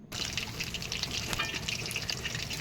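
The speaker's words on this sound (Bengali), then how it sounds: "একটু লাল লাল করে ভাজতে হবে যাতে কাঞ্চি ভাবটা থাকে।" Teasel gourd (kakrol) pakoras frying in hot oil, a dense, continuous close sizzle and crackle heard alone for a few seconds.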